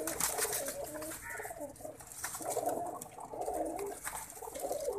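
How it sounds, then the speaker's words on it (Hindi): Pigeons, including a black ring-banded bird, coo in a loft; soft repeated cooing runs steadily throughout with other birds calling nearby, no talking. "ये देखें वाइट तीन छल्ले वाला, सबसे काला कबूतर ये भजन"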